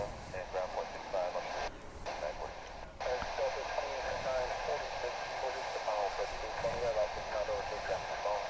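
An American Airlines Airbus A321 bound for Denver at DFW International Airport produces a distant, steady engine roar, heard beneath crowd murmur and chatter at a plane-spotting spot.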